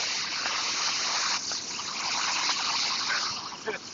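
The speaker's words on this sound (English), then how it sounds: "You can already hear the waterfall from here." A waterfall in Banff rushes as a steady, broad hiss of falling water, fairly faint and distant, with a brief faint knock near the end.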